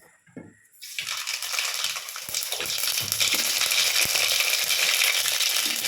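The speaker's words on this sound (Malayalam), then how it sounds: "ഇതിലേക്ക് ഒരു ടീസ്പൂൺ കടുക് ഇട്ട് കൊടുക്കുക" Mustard seeds dropped into hot coconut oil in a pan for a drumstick-leaf sambar tempering, a quiet start giving way to steady, close crackling and sizzling with sharp popping spatters throughout.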